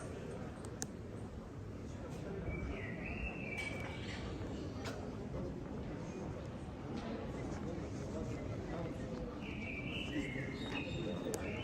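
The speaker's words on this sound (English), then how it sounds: "There's birds." Birds chirp in short high calls over a steady wash of evening street noise in Paris, with a loud bird standing out at moments amid traffic and distant voices.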